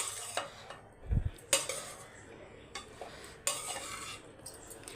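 Paneer fried rice being mixed in a pan off the heat with a spoon, giving a few scraping strokes and clinks of metal against the pan with a faint soft sizzle between them, close and without talk.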